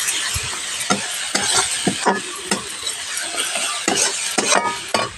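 Potatoes and carrots tipped into frying masala in a pan, a soft sizzle broken by irregular scraping, stirring and clinks of a spoon against metal, close with no talking.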